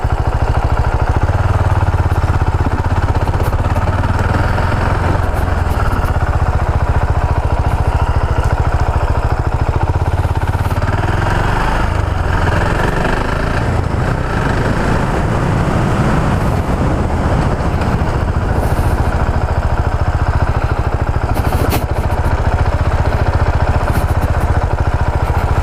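A 2018 KTM 690 Duke single-cylinder motorcycle idles with a loud, steady low rumble and mechanical clatter, heard close and continuous amid wind noise.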